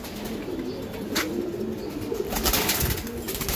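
Racing Giribaz pigeons coo softly and steadily at close range, with brief bursts of wing flapping toward the end.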